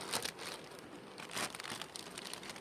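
A plastic vinyl cover on a beehive is folded by hand, giving soft, irregular crinkling and rustling that runs throughout the short stretch at moderate loudness, with no speech.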